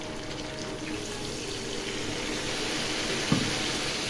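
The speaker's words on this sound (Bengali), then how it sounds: "এই জলটা গরম করে রাখা ছিল, জলটা দিয়ে দিলাম।" Hot water poured into a pan of Bengali curry, a steady liquid rush running throughout, close and moderately loud, with a small clatter near the end.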